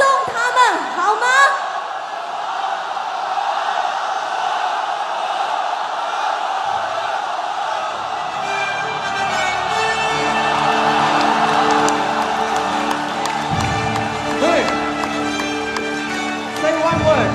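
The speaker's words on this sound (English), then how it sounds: "让我们再次用欢呼声欢送他们，好吗？" A large crowd cheers and whoops in a Warcraft 3 esports arena at the WCG 2013 event, a loud, sustained roar of applause and shouting that swells over the clip, with music-like tones rising underneath.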